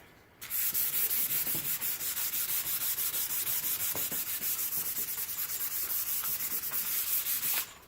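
Sandpaper rubs steadily over a skateboard deck, making a continuous close scratchy hiss with a quick back-and-forth rhythm that runs almost without a break.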